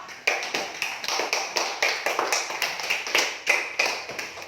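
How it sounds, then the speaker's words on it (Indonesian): Students in a classroom applaud a group of classmates with rhythmic, unison clapping, a steady series of sharp, loud, close claps in a regular beat with no talking. "Tepuk tangan untuk kelompok."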